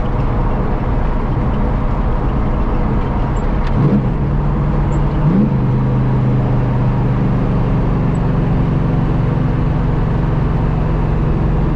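A Daytona Coupe mid-engine car cruising in fifth gear, its engine droning loud and steady from inside the cabin with a couple of brief shifts in pitch, continuous road and wind noise underneath.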